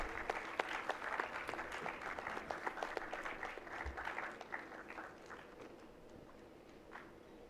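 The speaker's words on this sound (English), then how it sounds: "A big round of applause" Audience applause at a food processing startup event, a dense burst of many hands clapping that starts loud and gradually thins and fades out, with no talking over it.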